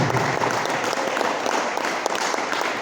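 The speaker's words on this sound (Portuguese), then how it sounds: "aplauda o Senhor" A church congregation claps together in a steady, dense round of applause that holds at an even level throughout.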